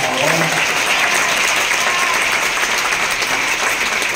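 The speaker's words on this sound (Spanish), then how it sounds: "Un aplauso, por favor." Loud, sustained audience applause at a carnival-themed event in Veracruz, many hands clapping densely and evenly throughout, with faint crowd voices and cheering mixed underneath.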